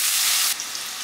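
Onion and pepper hit a pan of frying crayfish, giving a loud, steady sizzle that drops to a softer crackling hiss partway through.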